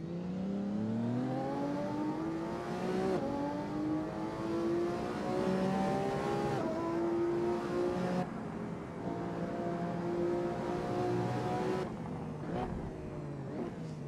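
Lamborghini Aventador SV in Assetto Corsa on a race track, its engine revving up through the gears in repeated rising pulls with brief shift breaks, loud and close, with no talking.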